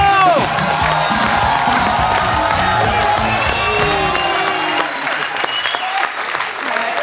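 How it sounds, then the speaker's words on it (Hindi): A television studio audience bursts into loud, sustained applause mixed with cheering and whoops to welcome a guest on a comedy talk show. The dense roar carries through the whole stretch, with a few voices shouting over it. "तो एक बार जोरदार तालियों से स्वागत हो जाए"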